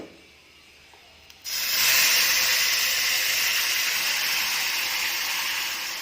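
Spices for tempering hit hot oil for a peanut curry and burst into a loud, steady sizzle after a quiet moment, hissing on without pause.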